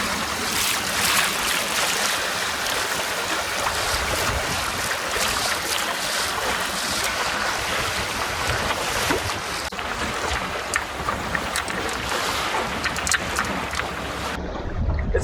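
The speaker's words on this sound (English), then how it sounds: "It's a little bit windy out here." Wind rushing and waves slapping around a small O'Day Day Sailor, an Offshore 16 sailboat, out in strong winds, a continuous loud buffeting roar with splashy water noise, near and steady.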